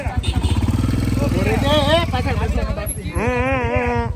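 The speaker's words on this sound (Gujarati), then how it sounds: "ચાલો બાઈક આવી ગયા છે" Motorcycles arrive on a roadside stop during a trip from Delhi to Nainital, their engines chugging low and steady while several people talk loudly over the idling.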